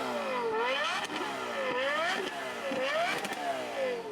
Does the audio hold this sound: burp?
no